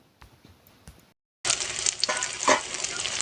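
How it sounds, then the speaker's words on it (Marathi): Whole spices tossed into onion and tomato frying in a pan for a dhaba-style vegetable curry: a few faint clinks, a brief pause, then a loud, steady sizzle with stirring scrapes, close up and with no voices. "इथे थोडासा खडा मसाला घेतलेला आहे, तो पण छान आपल्याला कांद्यामध्येच परतून घ्यायचा आहे."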